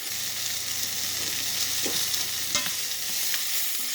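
Potatoes browning in a hot pan before a Bengali-style salmon fish curry: a steady, close sizzle with occasional stirring scrapes and light clicks, no talking.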